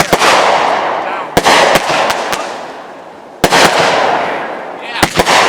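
Fireworks at a backyard family show go off in sharp, loud bangs, some single and some in quick clusters, over a hissing, crackling wash between the bursts.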